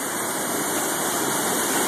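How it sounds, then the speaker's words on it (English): Big rapids on Spring Creek at high water give a loud, steady, broadband roar of rushing whitewater, close by and continuous with no pauses or talk. "this is the apparently one of the big rapids on Spring Creek"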